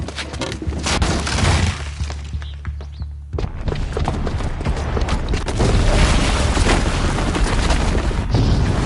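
A booby-trapped bomb detonating in Horizon Zero Dawn: a heavy, loud boom with crashing, shattering debris, a brief near-silent gap, then a continued rumbling roar of collapse and breaking material.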